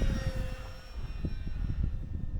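A radio-controlled Corsair model airplane, a 1.2 m warbird, drones steadily overhead with an even engine hum that holds at a constant level across the whole stretch, with no voices heard.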